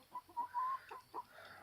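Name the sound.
chickens clucking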